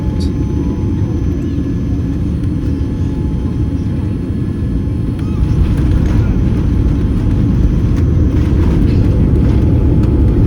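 Cabin of a passenger airliner descending to land at Mumbai, a loud, steady low engine roar and rumble that continues throughout, with faint talk in the background.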